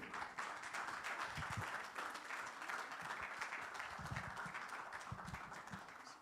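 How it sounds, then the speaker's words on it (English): Warm applause from an audience, dense clapping that holds steady for several seconds before starting to taper slightly. "Please join me in giving a warm round of applause to our speaker, Dr. Satrajit Mukherjee."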